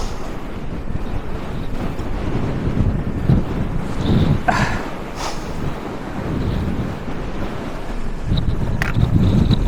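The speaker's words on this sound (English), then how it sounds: "Even windier than normal, so I don't know if you can hear me." Strong wind on a fell summit at Kinmont Buckbarrow buffets the microphone. It gives a loud, continuous roaring rumble with gusting surges throughout, and no clear talking is heard.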